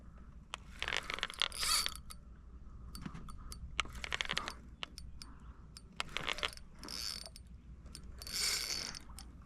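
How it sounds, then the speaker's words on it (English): A fishing reel's ratchet rattles and clicks in irregular bursts while fishing on a boat in North Channel, near and fairly loud over a low hum. "my reel's sounding brutal right now"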